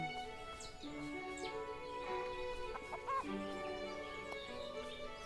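Chickens in the Everdream Valley farming game cluck in short, clear calls over steady tonal background music, with a few brighter chirps; the sounds are near and moderately loud.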